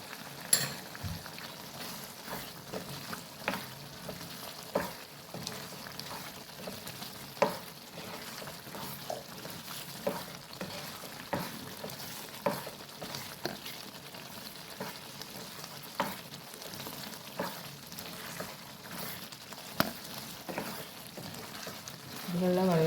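Liver sautéed with chilli powder in a pan for a Bakrid-style liver roast: a steady close sizzle runs throughout, broken by repeated sharp scrapes and knocks of the spoon as it is stirred.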